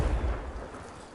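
A Confringo fire spell cast in Hogwarts Legacy, a single deep explosive boom with a rumbling tail that slowly dies away, close and full.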